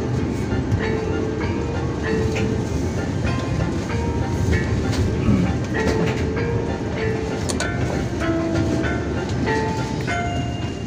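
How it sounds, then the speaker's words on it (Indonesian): Argo Dwipangga executive passenger train running on the rails between Solo and Jakarta, a steady loud rumble from inside the carriage with rhythmic clickety-clack over the joints throughout. "kereta api Argo Dwi Bangga akan segera berhenti di tujuan akhir stasiun Jakarta Gambir"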